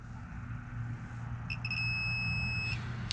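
A continuity tester connected to Ramcharger ignition wiring sounds a short chirp and then a steady high electronic beep held for about a second, over a low background hum, with no voices.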